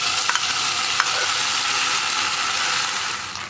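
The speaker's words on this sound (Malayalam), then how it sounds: "ഇനി നമുക്കിതിലേക്ക് വേവിച്ച് വെച്ചിരിക്കുന്ന ചെറുപയറും അരിയും ചേർന്ന മിക്സ് ഈ നെയ്യിലേക്ക് ഇട്ട് കൊടുക്കാം." A cooked green gram and rice mix fries in ghee, a dense, loud, even sizzle with a few faint scrapes near the start, close up with no voices.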